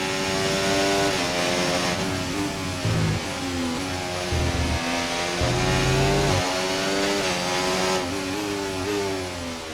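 A McLaren Formula 1 car on medium tyres in the racing game F1 24, its engine screaming loud and close with rising and falling pitch through gear changes, heard alone.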